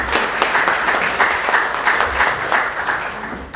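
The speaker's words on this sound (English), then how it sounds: "So give him a clap for providing us with that information." Audience applause for the author at a book launch on South Sudan's independence struggle, a continuous wash of clapping with a few sharper individual claps standing out near the listener.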